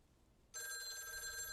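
A telephone in the video game Lake starts ringing abruptly after a quiet moment, a bright sustained electronic ring holding steady and fairly faint, with no talking.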